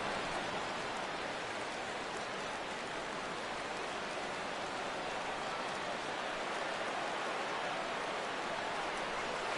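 Rain falls steadily at a ballpark in MLB The Show 17, a constant soft hiss of drops that continues evenly throughout with no voices.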